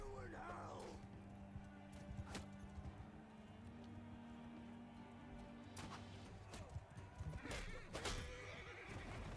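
A horse whinnies in battle in Mount & Blade 2 Bannerlord on console, a shrill neigh at the start, with hoof clip-clops, crashing combat hits and someone talking throughout.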